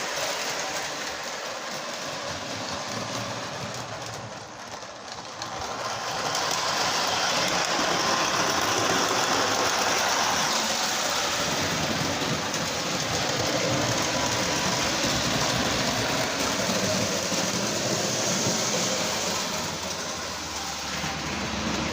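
Model train running at about half throttle on a layout track, a steady close rolling hum and rumble that grows louder partway through and stays even, with no talk.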